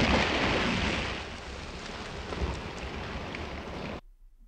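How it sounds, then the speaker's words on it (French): Steady broadband wash of sea waves from the animated Disney film Pinocchio, a continuous rushing surf texture with no music, holding constant for about four seconds before cutting off abruptly. "on n'a que le son des vagues."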